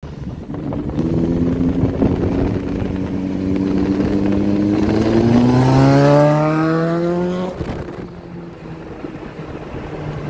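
A Tata Tiago car engine drones steadily while driving, its pitch climbing smoothly through a long acceleration before dropping back, with strong wind noise buffeting the microphone throughout.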